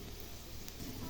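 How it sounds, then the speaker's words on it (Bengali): Panch phoron spices frying in hot oil in a wok, a steady soft sizzle that holds faint and even throughout. "5 ফোড়নটা ভাজা ভাজা হোক"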